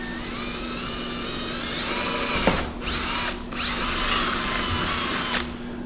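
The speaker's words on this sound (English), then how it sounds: "so we'll drill that part out." A power drill whines steadily as it bores through plastic, cutting out twice in short pauses before running on and stopping.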